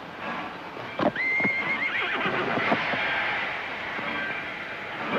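A horse whinnies loudly near the start of a 1949 film soundtrack, with hooves clopping and rumbling movement continuing in the background.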